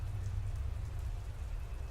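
Heavy, steady rain in a horror story setting, a dense continuous wash of falling water with a deep low rumble underneath like distant thunder, fairly quiet and unbroken, with no voices.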